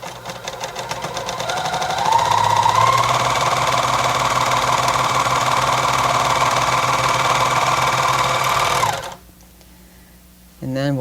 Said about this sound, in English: start sewing them together on the serger